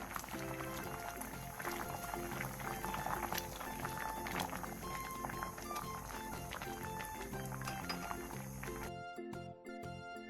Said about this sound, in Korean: 물이 끓어오르면 중약불로 줄여 15분 정도 더 끓여주세요.